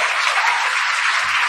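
An audience at a Supreme Court session breaks into applause, a loud, dense burst of clapping that runs steadily for the whole short stretch, with no speech over it.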